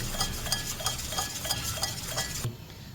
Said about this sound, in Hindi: तो अच्छे से विस्क करते हैं